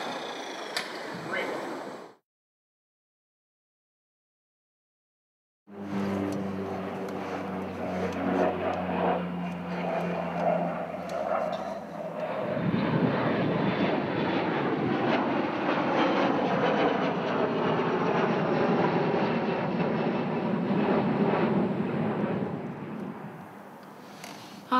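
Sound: airplane passing near Wellington Airport

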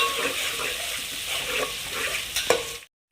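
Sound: green chillies and onions frying in a pan

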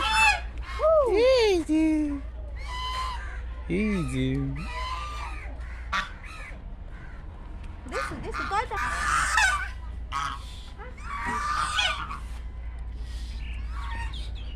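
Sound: geese honking

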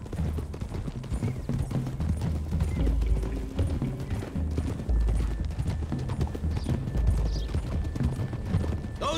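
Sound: horses galloping, Red Dead Redemption 2 video game

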